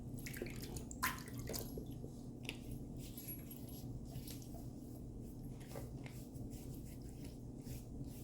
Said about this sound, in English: let's get some water on our face